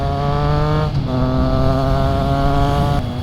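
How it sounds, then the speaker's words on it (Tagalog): A Triumph Trident 660 motorcycle ridden at night, its engine holding a steady loud drone with a brief dip in pitch partway through before it rises again. "Sarap magmotor ng gabi."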